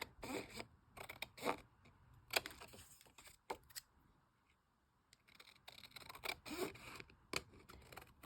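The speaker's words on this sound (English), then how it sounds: "So I'll just cut that extra off" Paper being cut with scissors while making a junk journal envelope: a series of short, crisp snips in quick bursts, separated by brief pauses and quiet handling noise, close and fairly soft.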